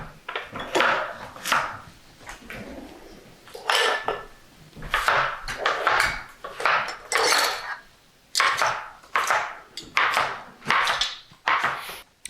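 Carrots dropped by hand into the bottom of a cooking pot while preparing dolma (stuffed grape leaves), making a run of close, uneven clattering knocks and thuds against the pot with no talking.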